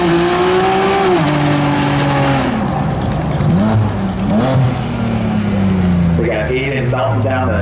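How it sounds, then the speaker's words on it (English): A drag race car at a spectator drag racing meet roars through a burnout, melting down its tires with loud revving and shifting engine pitch, while a commentator talks over it. "Melting down the tires for some extra traction there on the top side."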